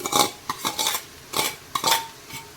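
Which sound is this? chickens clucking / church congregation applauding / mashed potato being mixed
mashed potato being mixed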